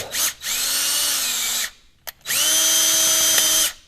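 A power drill bores out a broken bolt stuck in a blind hole during a choke coil repair, two sustained loud whining runs with a steady pitch and a brief pause between them, close by with no talk.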